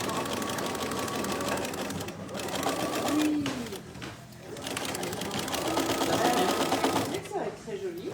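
A sewing machine stitches a fabric tote bag in steady runs of rapid, close mechanical chatter, pausing briefly between bursts, with someone speaking French over it.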